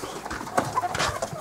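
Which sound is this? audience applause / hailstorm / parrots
parrots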